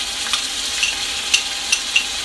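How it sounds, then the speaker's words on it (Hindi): Green chili paste sizzles in oil in a frying pan, a steady close hiss with a few small pops and stirring scrapes, and no voices. "हरी मिर्चों का पेस्ट डाल देंगे।"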